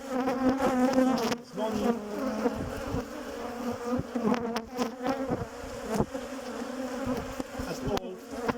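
Bees swarm and buzz steadily around a candy-filled top feeder box with openings on both sides, set on top of a beehive; the dense buzzing continues throughout, with brief quiet talk passing over it.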